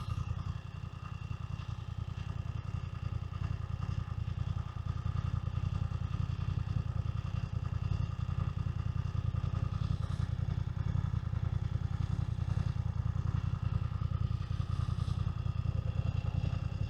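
A 900cc motorcycle carries a beginner rider into Glasgow city centre. The engine drones steadily and loudly throughout, with road and wind noise layered over it and occasional light clatter. Nobody speaks.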